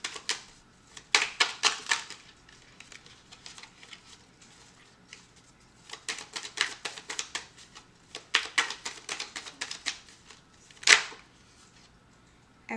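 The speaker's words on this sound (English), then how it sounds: "My cards keep jumping in big chunks, so I'm just shuffling." Tarot cards are shuffled in repeated quick bursts of riffling and slapping, separated by short pauses, close and fairly soft, with no talking.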